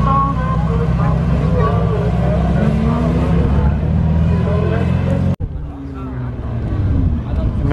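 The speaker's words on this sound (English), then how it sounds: "Nice modified Mark 5 white Supra." A modified white Mark 5 Toyota Supra drives through a Christmas breakfast car meet at a motor museum, its engine a steady loud rumble over crowd chatter, with a sudden brief cut near the end before the engine noise resumes.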